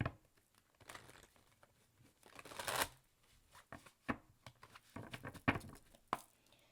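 Oracle message cards are shuffled close up, giving soft riffling bursts and crisp flicks and slaps of card stock in irregular clusters with quiet pauses between them, alone without talk.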